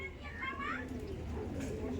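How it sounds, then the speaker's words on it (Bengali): A Kalasobuj pigeon gives a short, rising-and-falling coo close by, heard under a voice. "এই পায়রা যখন ডাকে, হ্যাঁ, দুই ডানা খুলে দেওয়ার ডাকে"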